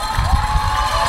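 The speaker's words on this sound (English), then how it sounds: "City of London behind me here, this amazing crowd cheering here," Dense roar of a large crowd cheering and shouting along Tower Bridge during the London half marathon, a steady loud wash of voices close by with no single voice standing out.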